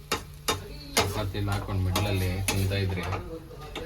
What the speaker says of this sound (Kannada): ಪನ್ನೀರ್ನ ಕೂಡ ಆ್ಯಡ್ ಮಾಡಿಕೊಂಡು ಚೆನ್ನಾಗಿ ಮಿಕ್ಸ್ ಮಾಡ್ಕೊತಾ ಇದ್ದೀವಿ